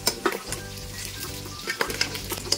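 Pork adobo frying in coconut milk in a pan gives a dense, loud sizzle with bubbling and a few sharp clinks and scrapes, heard close with no talking.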